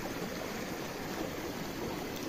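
Waterfall inside a forest in Acari, Rio Grande do Norte, Brazil, heard as a steady, broad rush of falling water filling the whole stretch at even loudness, with no voices over it.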